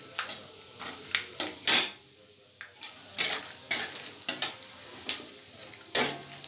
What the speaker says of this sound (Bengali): বাদামটা দিয়ে একটু ভাজা ভাজা করতে হবে